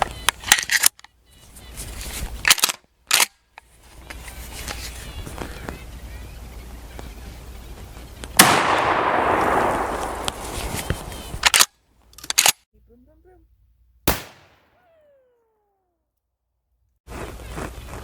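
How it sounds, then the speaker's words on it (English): Shotgun blasts from Federal 4-buck ammunition hit balloons stapled to a wooden pallet, several sharp loud reports spaced apart with a longer burst of noise in the middle and quiet gaps between. "now we're going to shoot them. Well, again, we'll be using the Federal 4-buck ammo."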